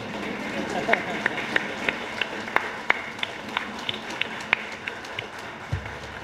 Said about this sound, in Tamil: எல்லாரும் அண்ணனுக்காக ஒரு கைதட்டு, எந்திரிச்சு ஸ்டாண்டிங் ஓவேஷன்.